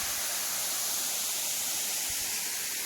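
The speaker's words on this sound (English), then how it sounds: "there's a little man-made cascading waterfall" Small man-made cascading waterfall in a state park, a steady broadband rush of falling water that is close and constant and fills the whole clip with no voices.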